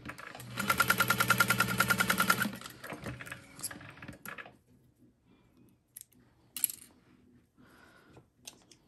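Sewing machine stitching fabric for a small wristlet, a rapid even whirring run of about two seconds close by, followed by soft handling clicks and rustles.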